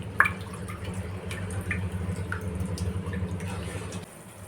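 Water boiling in a pot while cooking egg biryani, heard as a steady low bubbling rumble with scattered small drips and pops throughout, dropping quieter near the end.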